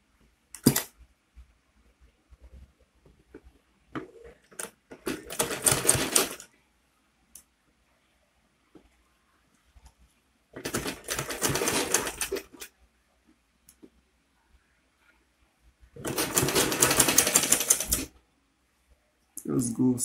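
A sewing machine stitches Ankara fabric for a flat cap in three separate runs of rapid stitching, each a few seconds long, with quiet pauses between them and a few faint clicks.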